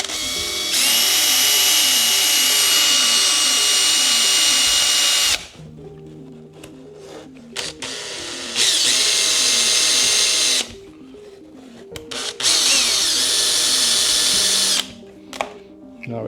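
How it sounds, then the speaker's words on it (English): A power drill bores through the plastic body of an MJX Hyper Go 10208 v2 RC car in three loud, whining bursts separated by short pauses filled with handling noises. "So we're going to drill this."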